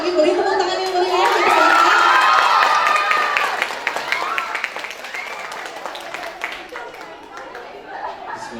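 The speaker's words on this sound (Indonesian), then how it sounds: "Boleh sekali lagi beri tepuk tangan yang meriah." At a school farewell ceremony for sixth graders, a crowd of children claps and cheers loudly, shouting voices peaking early then easing into scattered applause and chatter.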